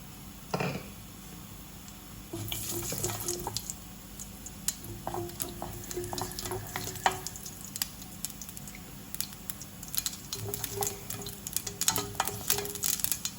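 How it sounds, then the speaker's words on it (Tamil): Mustard seeds frying in oil for a tomato chutney, a dense crackle of irregular pops and spits over a soft sizzle, close and fairly quiet, with no talk. "இப்போ கடுகை போடுறேன்"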